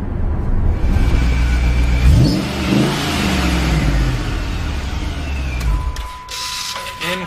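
A supercharged Jeep SRT-8 engine roars loudly and revs up, with a rising surge of engine note, before settling into a quieter idle at the end.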